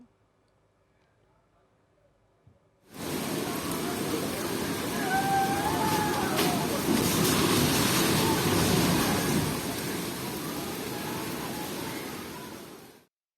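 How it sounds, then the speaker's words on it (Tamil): The flooded Pamba river in Pathanamthitta district, Kerala, overflows its banks with a loud, continuous roar of rushing water that starts suddenly after a quiet opening and holds steady for about ten seconds. "பத்தனம்திட்டா மாவட்டத்தில் பம்பை ஆற்றில் வெள்ளம் கரை புரண்டு ஓடுகிறது."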